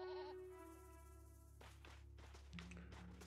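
A goat in the video game LEGO Pirates of the Caribbean bleats with a short wavering cry near the start, then more faint game noises follow.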